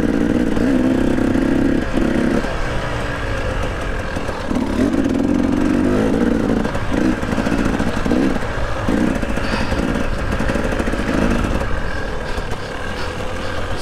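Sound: enduro motorcycle riding downhill in a race

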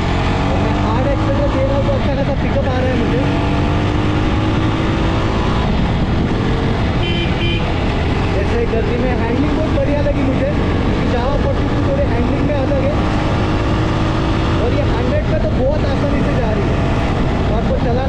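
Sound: Jawa 42 Bobber motorcycle engine accelerating hard

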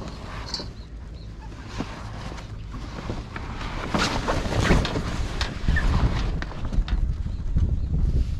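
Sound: wind in a marina

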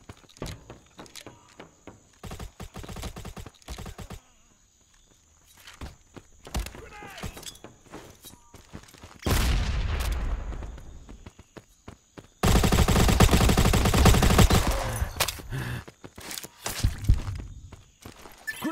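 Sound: gunfire in video game Modern Ops

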